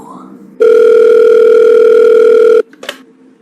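A telephone in a video game gives one long, loud, steady electronic ring tone for about two seconds, then cuts off and a faint click follows.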